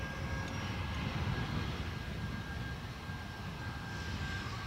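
A Boeing 737 Max 8 at Dublin Airport rumbles with a steady, fairly distant engine roar and a faint whine, holding constant as it taxis off the runway.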